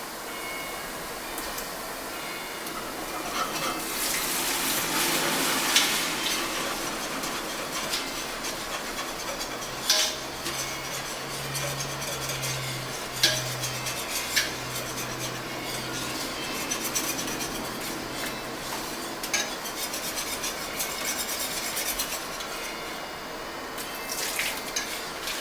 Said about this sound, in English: I'm just going to do a little deglazing here.